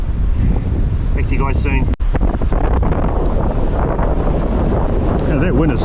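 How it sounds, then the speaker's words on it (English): Strong gale-force wind blasts across a beach and roars loudly into the microphone without letup, with blowing sand and a voice speaking briefly through the buffeting. "It's blowing a gale."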